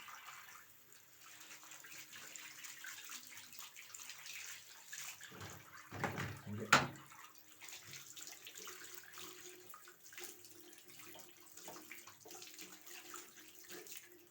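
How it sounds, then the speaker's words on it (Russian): A kitchen or bathroom tap runs steadily and faintly while hands are washed underneath it, with a brief splashy burst midway. "А вода течет, а вода течет."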